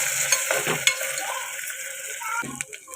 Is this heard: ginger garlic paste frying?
yes